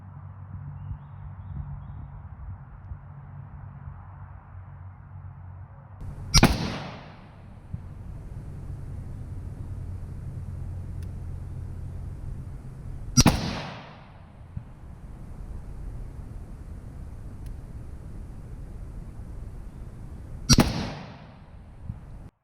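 AK rifle firing at an outdoor range, three sharp, loud gunshots spaced several seconds apart, each cracking out over a low background rumble and trailing off quickly.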